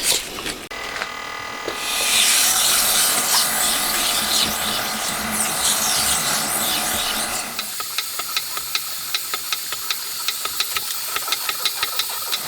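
Engine cylinder for a handmade 125cc four-cylinder 16-valve engine being honed with sandpaper on a powered tool, a loud steady hiss and whir for several seconds, then quieter rhythmic ticking taps, no talk.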